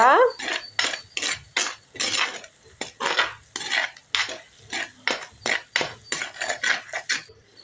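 A spoon scrapes and clinks rhythmically against a pan while coriander powder is stirred into eggplant, a steady series of close, bright metallic strokes repeating about twice a second with no talking.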